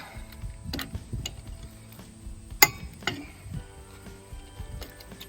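A wrench clicks and ratchets while loosening the lug nuts on an RV wheel, giving scattered metallic clicks and one sharp clank close by against quiet background noise.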